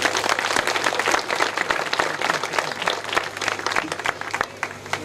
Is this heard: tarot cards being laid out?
no